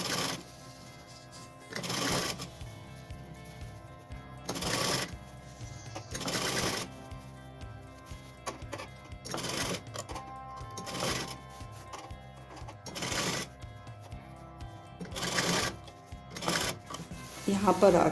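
A Usha sewing machine stitches gown lining and base fabric together in repeated short runs of fast, rattling motor chatter, separated by quieter pauses, while someone talks over it.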